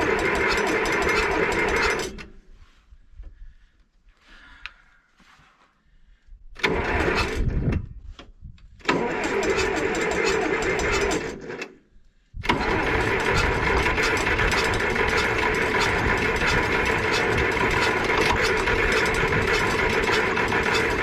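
An old John Deere 500A diesel tractor that has sat for over ten years is worked on, with a loud mechanical drone, two brief pauses, then a steady sustained roar close by.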